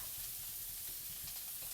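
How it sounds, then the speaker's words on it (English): Turmeric and cumin fry in a pan for a Moroccan bean soup, giving a soft, continuous crackling sizzle up close with faint stirring. "it's going to fry the spices"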